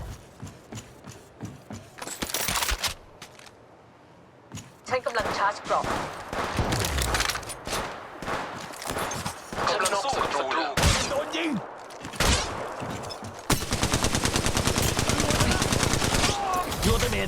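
Rapid bursts of automatic gunfire and single shots crack out in a firefight in the mobile shooter Apex Legends Mobile, loud and dense, with brief lulls between volleys.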